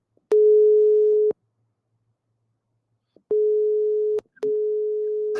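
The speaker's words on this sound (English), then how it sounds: "I simply uploaded the sound of a phone ringing on her voice." A telephone ringback tone for an e-learning scenario: one clean, steady beep of about a second, a long pause, then two more long beeps nearly back to back, alone and moderately loud.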